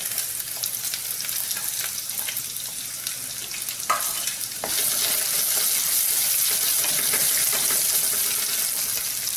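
Onion, ginger and garlic fry in a pan with a steady close sizzle. There are a few stirring scrapes partway through, and then the frying grows louder and brighter for the rest of the time.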